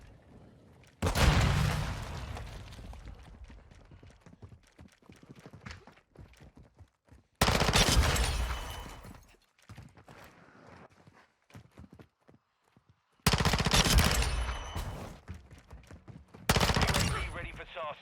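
Gunfire in a first-person shooter video game, four loud bursts of rapid shots separated by quieter gaps with footsteps and faint game sounds.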